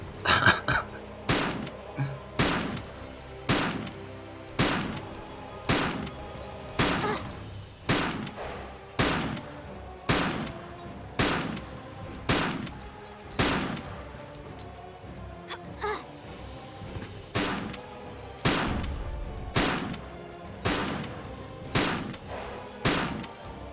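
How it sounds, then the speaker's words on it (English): A shotgun in a Tomb Raider custom level blasts at a giant minotaur, about twenty loud, sharp shots at a regular pace of roughly one per second, each with a short decaying tail. "finally we can use our shotgun. All of it on this giant minotaur"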